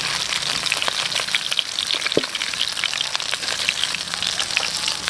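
Swordfish frying in hot oil, a dense, steady sizzle and crackle close by with scattered pops and one brief clink, no voices.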